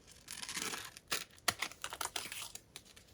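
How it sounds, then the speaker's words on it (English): Scissors snip through an autumn leaf during a craft project, giving a series of quick, crisp cuts and crinkles close by with no talking. "I am going to use my scissors"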